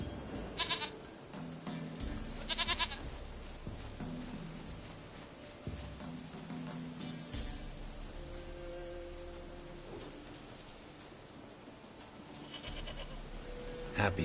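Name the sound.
goat bleating in the video game The Witcher 3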